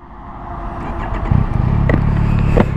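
Yamaha Tracer 9 motorcycle engine rumbling at close range, a steady low drone with a couple of brief revs rising near the end, muffled exhaust tone, no talking.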